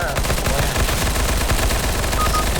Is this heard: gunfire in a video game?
yes